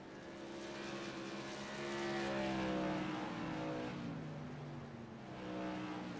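Modified race cars at Stafford Speedway, an oval track, with several engines droning and revving at once as they pass at moderate distance, the pitch rising and falling. No one talks over the engines.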